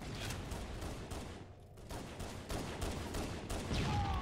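Gunfire and a grenade blast in a Halo: Combat Evolved multiplayer match, a dense burst of shots and rumbling explosion noise that continues for a few seconds, loud and close, with no voices.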